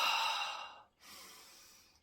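A single slow, breathy inhalation close to the mic, followed by a brief pause and a softer second breath, with no talking.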